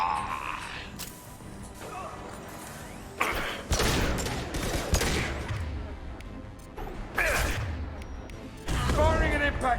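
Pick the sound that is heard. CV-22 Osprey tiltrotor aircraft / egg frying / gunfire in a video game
gunfire in a video game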